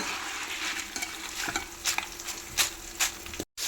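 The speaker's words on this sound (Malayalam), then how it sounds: "ചക്ക വറുത്തത് തീർന്നിട്ടില്ല കേട്ടോ" Jackfruit chips fry in hot oil with a continuous crackling sizzle, broken by several light scraping and clinking strokes as the chips are stirred and lifted, before a brief drop-out near the end.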